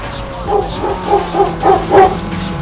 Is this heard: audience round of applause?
no